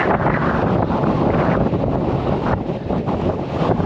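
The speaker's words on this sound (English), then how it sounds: "The wind's not any better down this side." Strong wind buffets the microphone in a loud, continuous roar with gusty swells and no voices, near Burrator on Dartmoor.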